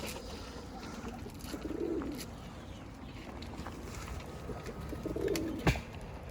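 Dolapçı pigeons coo softly in a loft, giving two low, throaty rolling calls spaced a few seconds apart over a quiet background with a faint tap or two.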